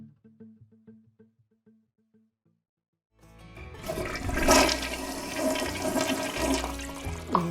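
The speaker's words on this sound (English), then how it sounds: "was that a flush?" A toilet flushes after a few seconds of faint, quiet sounds, its rushing water surging up loudly, peaking partway through and then gurgling on steadily to the end.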